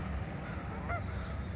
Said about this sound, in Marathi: आणि ह्या गीसचे थवे आहेत, म्हणजे मोठी बदकांचाच जात आहे ती एक.